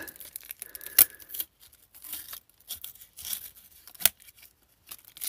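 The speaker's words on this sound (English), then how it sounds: "let's open this little Christmas package. What do we have? Yellow sticky tape." A small Christmas package sealed with yellow sticky tape is torn open by hand, in short sharp ripping bursts with paper crinkling between them, close and clear with no talk.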